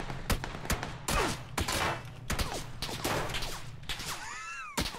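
Loud bursts of gunfire crack in a PUBG match, several sharp shots and rapid volleys spread across the moment, close and harsh with whizzing and ricochet-like sweeps between them.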